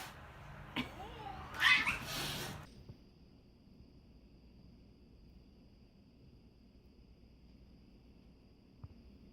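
A cat meows and lets out a loud, strained caterwaul in a short burst near the start, then the scene settles into quiet room tone with one faint click later.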